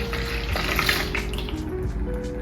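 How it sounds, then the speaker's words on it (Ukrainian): Warm milk, about 250 ml, poured into a deep bowl while making pizza dough: a steady continuous liquid pour, close and fairly loud, lasting throughout with no talk. "В глибоку миску вливаємо молоко 250 мл."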